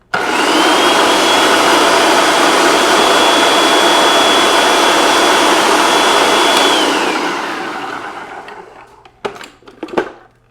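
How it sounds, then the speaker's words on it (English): Food processor grinding a vegan parmesan topping, a loud continuous whirring motor with a high whine for about seven seconds, then spinning down, followed by a few knocks, no talking. "I don't think with my food processor it's going to get it to a very fine powder."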